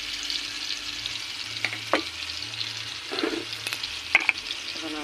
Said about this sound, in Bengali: এই যে দেখেন এখন আমি হলুদ গুঁড়ো আর লঙ্কার গুঁড়োটা ঢেলে দিব।